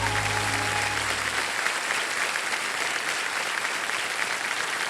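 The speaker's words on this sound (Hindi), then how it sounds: "जोरदार तालियां बजा दीजिए इनके लिए।" A studio audience on the KBC quiz show gives loud, sustained applause after a low musical tone fades out. The clapping stays steady throughout.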